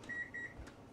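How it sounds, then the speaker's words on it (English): A kitchen timer sounds two steady electronic beeps in a row, each held about a fifth of a second and close by, against a quiet room hum, while sprinkles are being used to speckle a sock blank. "That's the timer for the sprinkles."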